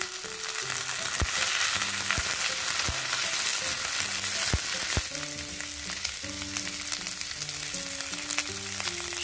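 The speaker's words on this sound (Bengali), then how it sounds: "এবারে আমি ফুলকপির টুকরোগুলোকে দিয়ে এটা একটু ভেজে নেব।" Cauliflower pieces fry with garlic and browned onion in a pan for chana dal with prawn, giving a steady loud sizzle with sharp utensil clinks and scraping stirs throughout, and no talking.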